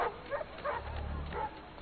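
Dogs bark and yip faintly under a low rumbling game ambience in Assassin's Creed III, a few short barks spread across the moment with no clear talk.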